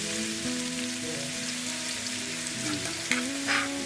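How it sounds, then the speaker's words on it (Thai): Minced pork chili paste stir-fries in hot oil with a dense, continuous hiss like heavy rain on a surface. The sound stays steady, with a faint tonal hum underneath and a few brief scraping accents near the end. "อันนี้เราก็จะมาผัดกันครับ"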